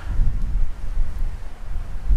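Gusty wind buffets the microphone at a puffin colony, producing a low, rumbling roar that swells and dips throughout.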